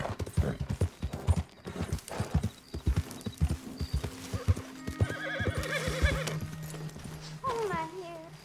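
Hooves clip-clop rhythmically as a horse is ridden in the Western video game Red Dead Redemption 2, ending in a loud whinny, with players chatting over the steady galloping throughout.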